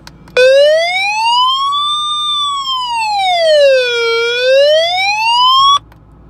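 A small LED light gadget's SOS mode blares a loud electronic siren that sweeps smoothly up and down in a single long wail for several seconds, starting and stopping abruptly with no talking over it.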